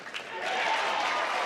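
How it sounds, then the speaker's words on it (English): A college baseball crowd at an Arkansas versus Alabama game swelling into broad cheering and applause, distant and diffuse, rising quickly and holding steady. "What are they cheering for?"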